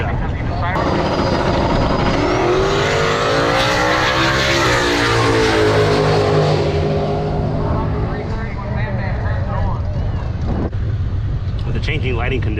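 Cars at a street car takeover in Oklahoma City rev and speed up, their loud engines rising and sweeping close by under wind buffeting, with a voice talking over the noise.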